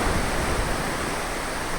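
Seawater surges into a sea cave in a steady, loud roaring wash of broadband noise, close and constant, with no voices.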